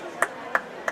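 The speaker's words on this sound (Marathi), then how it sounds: "जोरदार टाळ्या होत्या" Hand claps at a school prize-distribution ceremony, three sharp separate claps in an even slow rhythm, fairly close, over a low background murmur.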